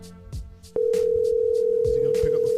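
A telephone call's steady tone drones continuously and loudly after a brief burst of background noise, with faint voices in the background.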